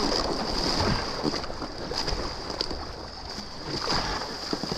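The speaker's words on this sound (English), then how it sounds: "Really nice waves here. Don't have to paddle very hard." Ocean waves wash and surge around a small paddled boat on open water, a steady broadband rush with wind noise throughout and occasional splashes, fairly close and continuous.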